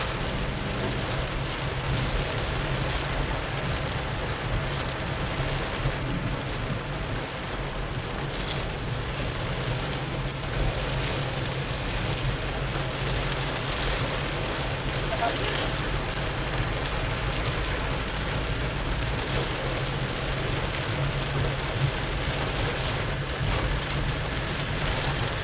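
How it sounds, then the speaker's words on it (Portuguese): Steady heavy rain pours onto a highway, the Rodovia Ayrton Senna, in a dense unbroken hiss that holds at the same loud level throughout. "Ah, vai parar a chuva."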